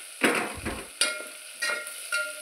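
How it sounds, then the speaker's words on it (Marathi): Onions fry in ghee in a pan, with a crackling sizzle and four distinct stirring scrapes spaced about half a second apart, close and moderately loud. "कांदा आपल्याला छान आता ब्राऊन होऊस तोपर्यंत परतून घ्यायचा आहे"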